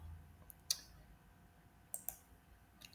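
A few sharp, isolated mouse clicks on a quiet computer setup, spaced apart with faint background hiss and no talking.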